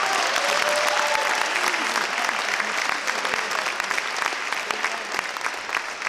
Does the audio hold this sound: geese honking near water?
no